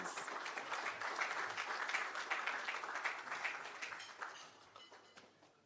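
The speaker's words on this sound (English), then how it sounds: "Give them a round of applause, please." A breakfast-meeting audience applauds for several seconds, dense overlapping claps that fade gradually toward the end.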